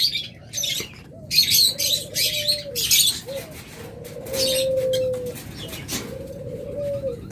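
Caged pet lovebirds, a red-headed, red-eyed opaline pair kept for sale, give bursts of sharp chirps and squawks, with short coo-like calls in between, close and fairly loud against a steady background hum.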